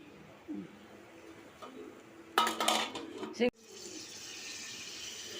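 Mushroom masala stirred in a pan: a short burst of metal clatter and scraping from a spoon against cookware, with quiet kitchen noise before and after.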